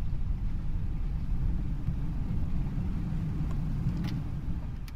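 British Airways A320 reverse thrust rolling out on the runway after landing in the Prepar3D V3 flight simulator, a steady, dense low roar that holds at even loudness throughout with no voices.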